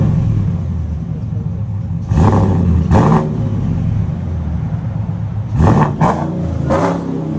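A supercharged GMC Denali's 6.2L V8 with dual exhaust and Valvetronics mufflers, valves closed, idles with a low rumble and is blipped in sharp revs: two separate ones, then a quick cluster of three near the end.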